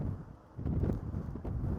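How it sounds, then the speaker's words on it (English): Gusting wind buffets the microphone in rising and falling low rumbles during rain near the Christie Mountain fire in Penticton. The surges swell and ease over under two seconds, with no voices. "the gusting wind seems to be gusting stronger over the last couple minutes to come with the rain"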